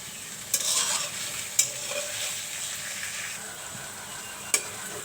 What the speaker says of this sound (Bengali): পটলগুলো ভাজানো হয়ে গেল